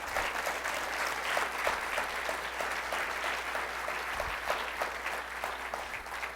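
Congregation clapping steadily during a Spanish-language church sermon, a dense sustained patter of many hands throughout, fairly distant with a faint low hum underneath.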